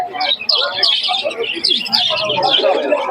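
Many birds chirp and tweet densely and continuously, close by, with faint voices and market bustle mixed underneath.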